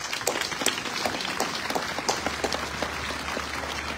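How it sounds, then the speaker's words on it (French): A crowd at an Armistice Day commemoration claps together in a dense, steady patter of hand claps, moderately loud, lasting throughout with no voices over it. "j'espère que vous accepterez de les applaudir avec moi aussi"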